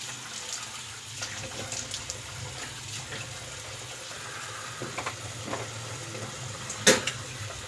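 Cold water runs steadily from a bathroom tap into a sink during a wet shave, a moderate continuous splash with a few brief clinks and a sharper knock near the end, no one speaking.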